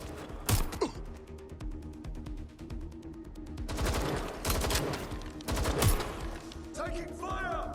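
Gunfire in the Watch Dogs: Legion video game, with rapid bursts of automatic fire and sharp single shots layered over a busy game soundscape, and a voice shouting briefly.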